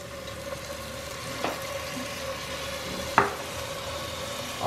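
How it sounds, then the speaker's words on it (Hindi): Vegetables seasoned with salt, black pepper and soy sauce sizzle steadily in a pan, with a couple of sharp scrapes and clacks as they are stirred; no one speaks. "आप देख सकते हैं वेजिटेबल्स को मैंने हल्का सा फ्राई कर लिया है"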